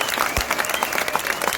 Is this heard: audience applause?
yes